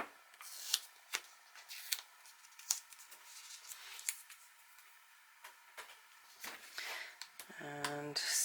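Scissors snip through paper for a 6x6 mini album craft project, giving a series of short, crisp cuts in an irregular rhythm, close and fairly quiet, with a brief voice near the end.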